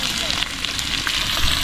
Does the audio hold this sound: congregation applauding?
no